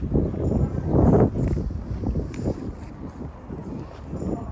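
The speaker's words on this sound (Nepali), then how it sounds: "आज चाहिँ एकदमै जाडो पनि छ अनि हावा पनि चलिरहेछ" Gusty wind on a cold day at Tulleys Farm's tulip fields buffets the microphone in low rumbling bursts, rising and falling unevenly throughout, with no one speaking.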